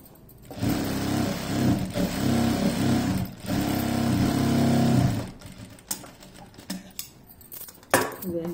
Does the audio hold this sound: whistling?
no